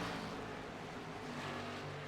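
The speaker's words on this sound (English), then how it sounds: "I got engine noise." Race car engines from a racing video game set at Charlotte in an Xfinity-series race drone faintly in the background, a continuous low whine without talk.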